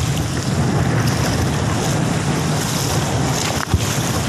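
Sea water splashes and churns against a small boat out at sea, a loud, continuous rush mixed with wind buffeting the microphone and a short knock near the end.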